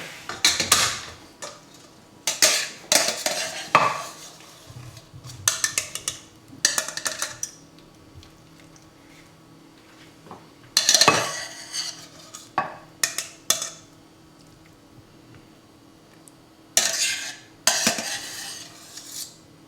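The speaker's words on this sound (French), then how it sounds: "On va écraser à la fourchette tout simplement." A fork mashes flaked haddock in a dish for a brandade, giving scraping, clinking taps against the dish in irregular bursts with quiet gaps between them; no one speaks.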